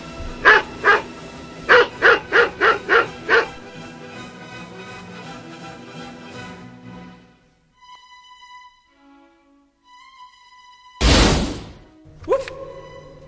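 A dog barks in a quick series of sharp, loud barks close by, followed by a quieter stretch with faint tones and one loud thump near the end.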